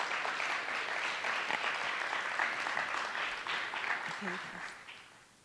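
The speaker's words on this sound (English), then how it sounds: "Big round of applause." A crowd applauds steadily at an awards ceremony, a dense wash of clapping that holds for several seconds and then begins to fade.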